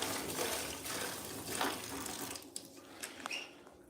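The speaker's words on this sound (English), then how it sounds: "So, we're going to put some hot water in the bucket." Hot water runs from a tap into a floor-cleaning bucket, a close, steady rushing gush that thins and breaks up toward the end as the flow stops, with a few small clanks.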